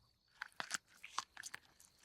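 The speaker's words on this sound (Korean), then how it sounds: "검은 그림자가 웅크리고 앉아 무언가를 씹는 것 같은 소리가 들려왔다" A crouching creature chews something in close, sparse bursts of wet crunching and biting, irregular and quiet against near silence.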